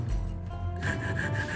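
A rasp rubs across a wooden mallet being shaped, giving a hollow scrape first and then a run of quick, rhythmic rasping strokes, close and clear with no voices.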